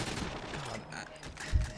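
Gunfire in GoldenEye 007 on the Wii during a free-for-all match on the Station map: a short burst of game shots with a louder thump near the end, set against busy game sound.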